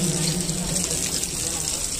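Tap water runs steadily at a mosque washing area as someone rinses hands, feet and face, a continuous close splashing stream with a low murmur beneath.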